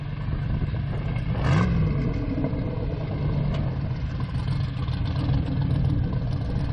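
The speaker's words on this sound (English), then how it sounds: "I'm going to try to hit it with trans brake real quick" LS turbo square-body truck engine idling roughly up close, with a brief rev burst early on and a lumpy, low rumble on the street.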